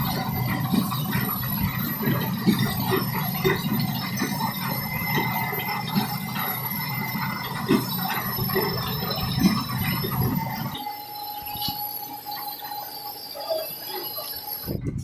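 A machine running steadily with a high mechanical squeal and rumbling drone, then the low rumble drops away, leaving a thinner whirring hum.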